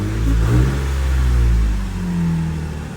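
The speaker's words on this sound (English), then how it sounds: "Tell him to rev it." A Lexus IS300 engine revving nearby in a few swelling pulses, the deep rumble climbing and easing back in smooth waves with no voices over it.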